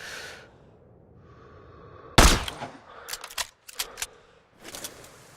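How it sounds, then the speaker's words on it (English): A single sharp, loud rifle crack from a sniper rifle in the video game Sniper Ghost Warrior 3 rings out after a quiet lull, followed by a few scattered clicks and thuds of gear. "Set the scope 200 meters to combat bullet drop. Check the wind and pull the trigger."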